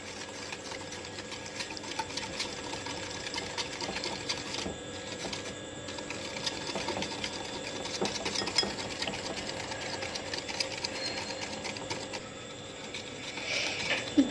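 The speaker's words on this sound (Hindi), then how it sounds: "एग बीटर की मदद से हम इसे मिक्स कर लेंगे।" An egg beater mixes powdered sugar and oil for a donut cake batter, giving a steady, continuous mechanical whirring that runs unbroken with small shifts in pitch and no voices.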